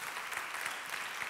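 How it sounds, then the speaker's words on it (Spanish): An audience claps steadily, a dense wash of many hands applauding at an even level throughout, with no voices standing out. "Si les damos un fuerte aplauso a todos."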